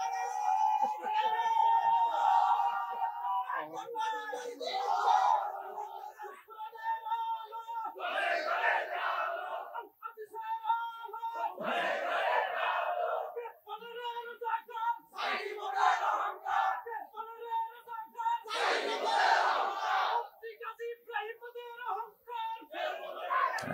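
A crowd chants political slogans in rhythmic call-and-response bursts, loud and close, with voices surging together in repeated phrases and a lead shout between rounds.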